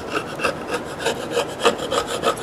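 A scraper works dried glue off solid wood doors with steady, rhythmic rasping strokes, several per second, close and loud with no voices.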